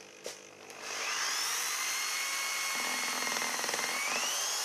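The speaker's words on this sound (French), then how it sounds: "c'est à la perceuse qu'il faut y aller" A power drill whines steadily as it bores into a large 1.5 kg egg, starting after a few light knocks and holding a high, close, continuous pitch.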